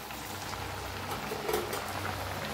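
Rice flour chakli frying in hot oil, a dense continuous bubbling sizzle, close and steady throughout.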